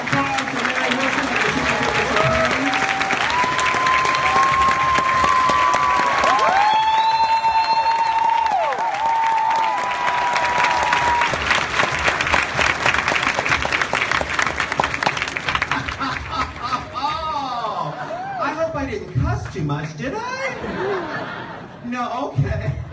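Crowd applause, cheers and laughter at RuPaul's Drag Con 2016 keynote, greeting a guest's arrival; loud, sustained clapping and whoops with a sung or held vocal note partway, fading under a speaker's voice toward the end.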